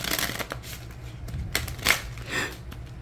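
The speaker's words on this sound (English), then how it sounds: "Okay, so I'm going to do one shuffle." Tarot cards shuffled by hand at close range, several quick riffling bursts of papery flutter one after another, with no talking.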